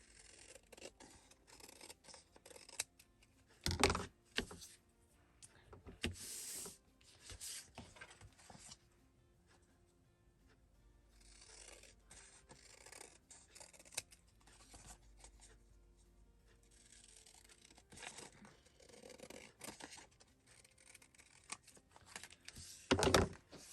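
Scissors snip through card in quiet, close bursts, with scattered rubbing and handling noises of paper between the cuts and no talking.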